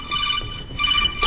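A mobile phone chimes with a message notification, a short bright ringtone tone heard twice, close and clear against a quiet background.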